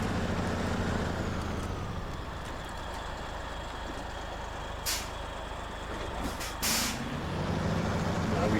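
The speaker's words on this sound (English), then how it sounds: "we're going to have to jockey the truck back and forth a couple of times" Heavy truck in a driving game working back and forth up a steep hillside at Costa Atardecer, Chiapas, its low engine drone steady throughout, with two short hissing air-brake releases near the end.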